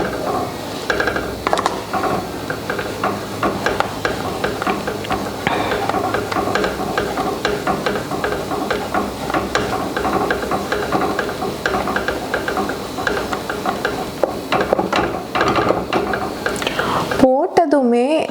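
A sweet mixture is stirred continuously in a hot pan, with steady scraping and sizzling under faint talk, ending in a brief louder clatter.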